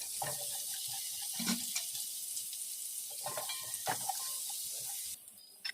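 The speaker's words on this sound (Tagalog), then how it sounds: "Tapos igisa na ang bawang at sibuyas." Garlic and onion sizzle softly in hot oil, a light crackling hiss with occasional clinks of a utensil stirring the pan.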